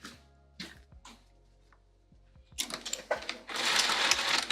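A sewing machine stitches across a Rosetta bag, starting after a few quiet clicks and handling sounds and then running in a loud, steady burst to the end.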